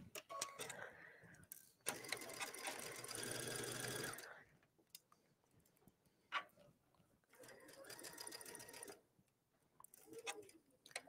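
A sewing machine stitches a slit sleeve in two steady bursts of a few seconds each, close and clear, with soft clicks and handling noises in the quiet gaps between runs.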